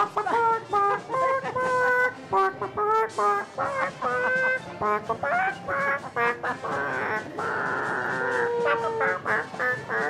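Several chickens at an outdoor pet parade cluck and squawk in bursts of varying pitch, close by and fairly loud, with overlapping calls throughout.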